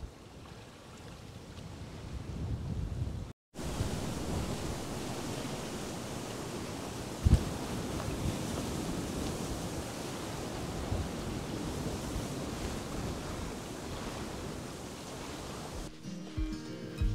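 Strong wind roars across the microphone beside Neuendorfer See, a lake in Brandenburg on the Spree, with rough water and waves washing underneath in a steady, loud, unbroken wash, briefly cut out once.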